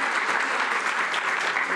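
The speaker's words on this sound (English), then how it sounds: "Let's give Mike a round of applause" A room of participants at a neighborhood leadership training session applauds: continuous, even, full-sounding clapping, fairly close and steady, with no break for the short duration.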